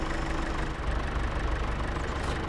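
Tractor engine idling in a farming simulation game set in Riverbend Springs, a steady low rumbling drone with faint knocking, continuous and close, with no talk over it.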